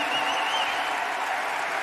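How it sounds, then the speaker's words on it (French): An audience at the Ballon d'Or awards ceremony applauds Kylian Mbappé with a dense, continuous wash of clapping, heard from a distance in a large hall. "Vous pouvez l'applaudir. Kylian Mbappé."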